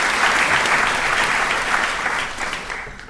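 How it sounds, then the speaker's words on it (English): Audience applause at the Charleston Literary Festival 2024, a dense, steady sustained clapping from a large crowd that holds loud throughout and only starts tapering slightly near the end. "Let's give them all one more round of applause."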